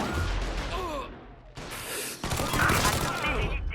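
Gunfire rings out in a mafia-themed video game, with bursts of shots mixed with game sound effects and breathy vocal noises such as gasps over a busy, loud background.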